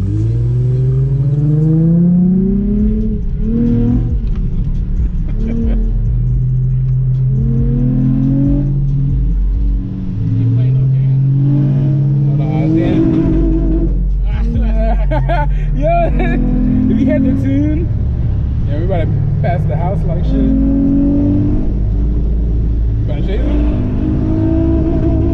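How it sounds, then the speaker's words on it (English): Infiniti G35 with a muffler delete revving repeatedly, loud rising and falling engine pitch in several bursts close by, with people talking over and between the revs. "Hear that V8?"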